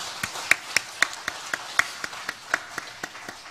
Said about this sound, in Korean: 감사와 영광의 박수를 한번 올려드렸으면 좋겠습니다